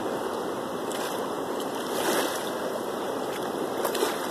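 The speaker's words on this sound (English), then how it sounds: "You can run a little water in it and see what it looks like." Water sloshing and running through a gold pan during gentle panning, a continuous close wash with soft swells and no talk.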